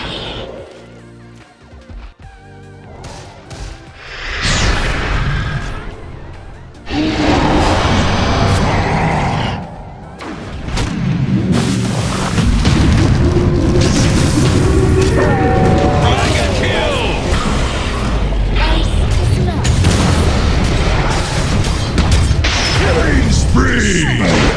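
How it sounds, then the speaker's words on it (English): A Dota 2 team fight at the International 2022 finals, ASTER against Team Liquid, as the Radiant middle tower is attacked: loud, dense game effects with booms, crashes and clanking spell sounds running continuously beneath a caster's excited commentary. "Radiant's middle tower is under attack."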